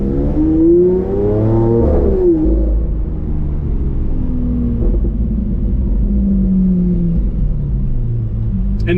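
A Lamborghini Aventador SV pulls away under the driver, its engine note climbing in a rising rev, briefly dipping at a gear change, then settling into a loud, steady rumbling drone close by.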